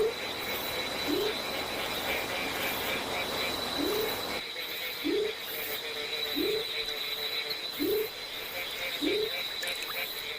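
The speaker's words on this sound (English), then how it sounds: "Outside, the evening chorus is well underway." Tree frogs calling in a rainforest at dusk, short rising croaks repeating roughly every second over a steady high insect drone and a dense background chorus.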